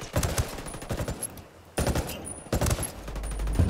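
Gunfire in the Ghost Recon video game's Ghost War mode: rapid automatic bursts and fusillades crackle loud and close in quick repeated volleys, with a brief pause between them.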